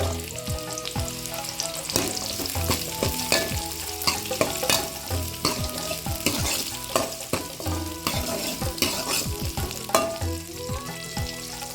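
Sliced onions frying in a pan for a bottle gourd and cowpea curry, a steady close sizzle broken by repeated scraping stirs of a spatula, with no voices.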